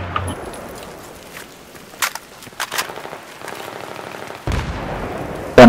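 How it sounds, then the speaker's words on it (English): Several sharp grenade blasts go off in a Counter-Strike-style match on the Grand Bazaar map: scattered loud bangs around two and three seconds, with a heavier burst near the end, over a low rumble of background battle noise. "Oh fuck, there's nades coming everywhere."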